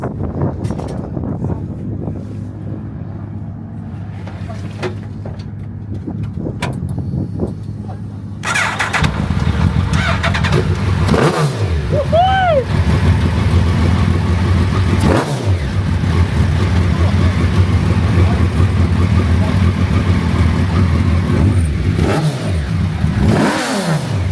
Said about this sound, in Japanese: ちょっとエンジンかけるところ取ります。